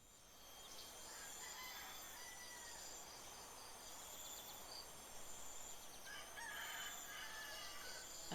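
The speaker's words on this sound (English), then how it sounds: "I can hear the roosters." Roosters crow in a village in the video game Heaven's Vault, faint, distant calls repeating over a steady outdoor ambience with insect-like chirring, and no talking.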